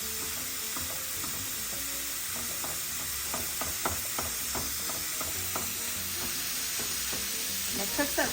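Homemade ground pork chorizo fries in a pan with a constant sizzle, broken by scraping stir strokes and small pops, close up and without speech.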